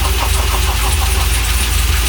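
A 1978 Chevrolet Corvette fitted with an LS1 V8 fires up and settles into a steady, loud, close-up rumble with a rhythmic throb throughout, no voices over it.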